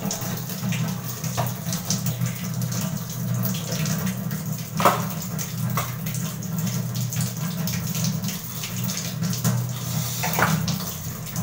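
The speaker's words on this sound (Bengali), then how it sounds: "আমার ভাত হয়ে গেছে, এবার মাড়টা ঝরিয়ে নেব।" Starch water being poured off a pot of cooked rice, a steady rushing stream of liquid close by that runs continuously with a few brief splashes and no talk.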